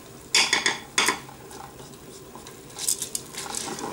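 A spoon stirs mushroom risotto in the pot of a Cookeo multicooker, making a few close scraping and clinking strokes against the pot, with a quieter stir near the end.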